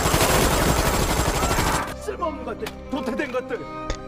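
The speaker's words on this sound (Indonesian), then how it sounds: "Dr. Gisu kemudian marah dan mengambil senjata lalu menembak semua orang secara brutal." Dense, loud burst of automatic gunfire as a scientist shoots everyone around him, a continuous rattle that stops abruptly and gives way to a voice speaking.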